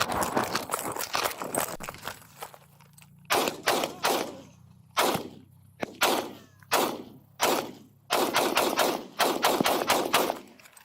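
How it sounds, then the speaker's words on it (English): Gunfire rings out during an officer-involved shooting at the end of a 22-mile narcotics pursuit, with loud, sharp shots in uneven bursts and rapid clusters, close by and with no talk. "I got shots fired."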